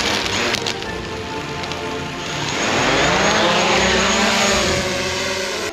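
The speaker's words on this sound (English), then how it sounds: "The drone is up." A DJI Mavic Pro drone lifts off outdoors for mistletoe harvesting, its propellers rising from a clattering start into a loud, rising buzzing whine that holds steady and close.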